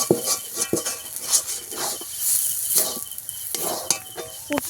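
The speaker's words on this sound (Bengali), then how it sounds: "এবারে ভাজা মশলা দিয়ে দেবো অর্ধেকটা ভাজা মশলা আমি দিয়ে দেবো করে একটু মিশিয়ে দেবো" Potato patty filling with roasted spices is stirred in a wok over a wood-fired stove, with repeated scraping and clinking strokes of a metal spoon over a soft, constant sizzle, close and moderately loud.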